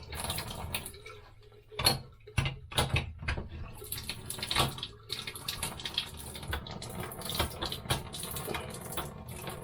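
Water runs from the faucet of a vintage camper's plumbing fixture in an irregular, thin trickle of splashes and spurts, fairly quiet and close, with no talking.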